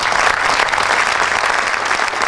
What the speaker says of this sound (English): can we give a round of applause to our CEO, Lara Bolton and Dr. Ramesh, please.